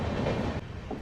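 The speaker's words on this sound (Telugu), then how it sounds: "సో మన ట్రైన్ గూడూరు జంక్షన్ నుంచి అయితే బయలుదేరిపోయింది" Brief burst of a passenger express pulling out of Gudur Junction, a continuous low rolling rumble of wheels on track with a slight dip midway.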